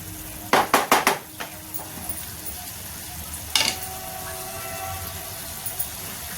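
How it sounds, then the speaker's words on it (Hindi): Chili sabzi sizzles in a pan over a high gas flame while a spoon clanks rapidly against the metal several times early on and once more later as it is stirred, with a steady frying hiss underneath. "अब इसको हम गैस को तेज करेंगे और इसको मिक्स कर देंगे।"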